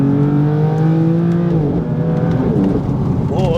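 A BMW M4 engine revs and pulls while driving with traction control off, a loud, steady drone that climbs in pitch inside the car, then wavers near the end.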